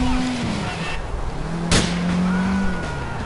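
Car driving in the video game GTA IV, an engine droning and shifting pitch with a sudden bright burst midway, under someone talking casually over the gameplay.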